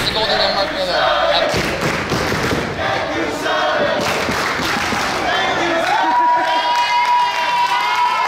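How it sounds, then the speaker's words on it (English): Wrestling crowd cheering and roaring for Sonny Kiss at an independent farewell match, a dense, loud wash of voices with scattered claps and thuds that stays steady throughout. "The crowd showing their support for Sonny Kiss."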